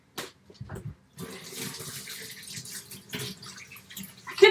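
Water runs from a kitchen tap while sticky, orange-juice-coated hands are washed beneath it, an uneven splashing that starts and stops before settling into a steady close stream.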